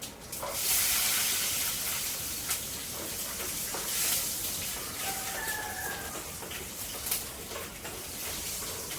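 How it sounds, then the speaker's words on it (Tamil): Garlic sautéing in oil in a pan, a continuous close hiss and crackle of frying with occasional sharper pops and spits, steady throughout with no voices. "அப்படியே அந்த எண்ணெயிலே வதங்கிட்டோம் நல்லா பூண்டு வதங்கும்"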